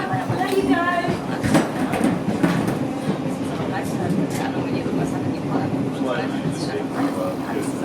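A train runs along the rails with a steady rumbling drone and some rhythmic clatter, while people talk over it throughout.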